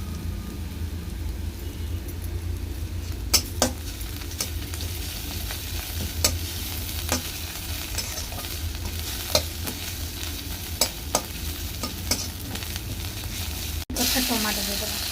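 Onions and green chillies with spices sizzling steadily in a pan for kunduri curry, a spoon scraping and stirring with intermittent clinks against the pan over the continuous frying hiss.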